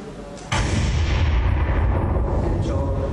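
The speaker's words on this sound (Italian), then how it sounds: "E quel gran botto" A dynamite bomb blasts on a highway in Sicily, a sudden loud boom that hits hard and then rolls on as a sustained, rumbling roar with no voices.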